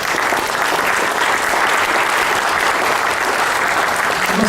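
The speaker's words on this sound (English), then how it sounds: "a huge round of applause, not just for the talk, but for the great work that Rotary is doing" A Rotary Club charity program audience breaks into steady, dense applause, loud and continuous throughout with no pauses.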